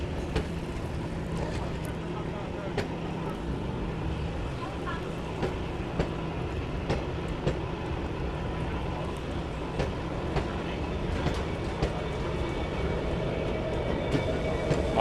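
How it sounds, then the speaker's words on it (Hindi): A train, passing sleeper coaches on its run from Guwahati to Badarpur in Northeast India, rolls around a curve on a steep hill railway. It makes a steady, continuous rumble of wheels and carriages with faint clacks throughout. "यहाँ पे ट्रेन कर्व करते हुए आगे की ओर बढ़ रही है"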